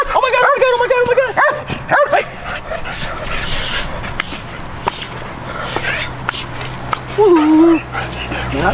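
A dog barks and yips in short bursts during protection dog bite work training, with whimpering pitch slides between the barks. The sounds are close and loud, and a person's voice is heard talking around them.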